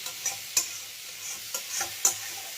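Cashews, tomato, raisins, poppy seeds and melon seeds fry softly in a pan under a faint sizzle while a spoon gently stirs, making a handful of light, separate scrapes.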